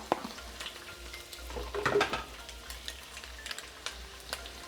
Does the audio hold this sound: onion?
yes